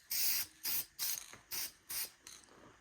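Self-etch primer sprayed from a can in five short, even bursts, each a sharp, close hiss separated by brief pauses, with no talk.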